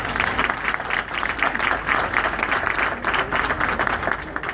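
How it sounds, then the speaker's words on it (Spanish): Audience applause for the city mayor at the launch event of an urban social innovation program in Santiago, Chile; steady, dense clapping from a large crowd sustained throughout. "Fuerte el aplauso para él, por favor."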